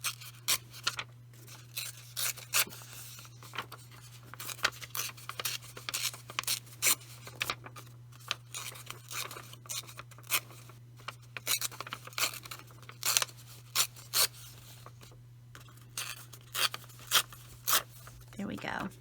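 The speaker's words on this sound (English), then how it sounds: "so I'm going to tear her edges a little bit." A paper picture is torn by hand around its edges for a vintage collage, giving repeated short ripping bursts close by against a steady low hum, with quiet pauses between the tears.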